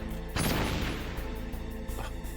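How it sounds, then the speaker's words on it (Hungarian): An in-game explosion from the 1998 PlayStation title Metal Gear Solid, a sudden loud broadband blast that rolls into a long dense rumble, with a smaller second burst about a second and a half later. "Most robbant be."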